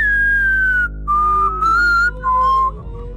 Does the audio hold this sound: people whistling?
yes